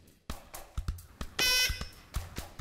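A quiz show buzzer on a studio game show rings in a short, loud electronic burst in the middle, between sharp thumps and knocks.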